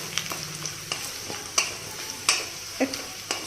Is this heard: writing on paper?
no